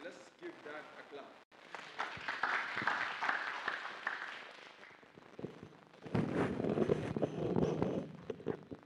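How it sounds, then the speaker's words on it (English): Wedding guests clap for the couple in a hall. A burst of scattered applause swells and then fades, with a voice speaking amid it. "Let's give that a clap."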